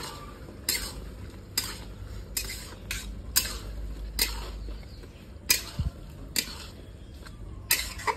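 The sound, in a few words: potatoes being stir-fried in gravy in a pan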